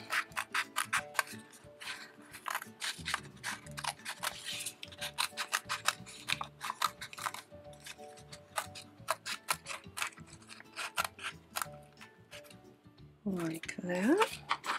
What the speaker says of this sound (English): I can get my scissors in to cut that shape out